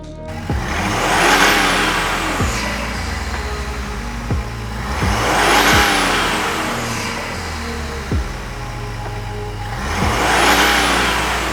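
A Chevy Silverado or GMC Sierra 1500 3.0L Duramax diesel truck engine with an aftermarket intake revs up and down three times in a steady cycle, a loud rising whoosh of intake sound at each peak, close by with no talking.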